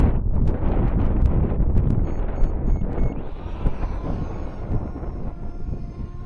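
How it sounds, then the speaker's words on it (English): Steady wind buffets the microphone outdoors, a dense rumbling roar throughout, with a faint high whine of a JJRC X12 drone appearing partway through. "It's kind of windy out here"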